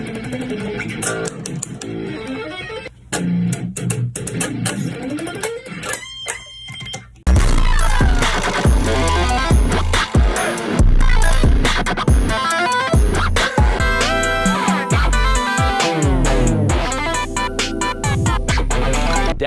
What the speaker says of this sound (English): It is literally not possible to make a guitar sound like this.